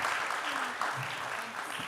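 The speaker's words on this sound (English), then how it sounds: "Can we have a quick round of applause for these Sudden volunteers?" Audience applause at an academic talk on democracy, a steady even wash of clapping that runs the whole short stretch at moderate level, with faint voices murmuring underneath.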